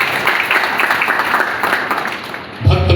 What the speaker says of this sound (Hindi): हमारे साथियों के लिए जोरदार ताली बजाकर इनका अभिनंदन करेंगे